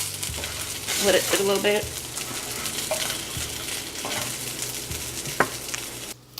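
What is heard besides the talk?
tilapia simmering in a pan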